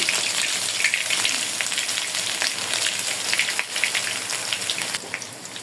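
Ginger and garlic paste frying in hot oil for a raw sweet mango jelly pickle gives off a loud, steady, dense sizzle with crackling spits throughout, and no voices.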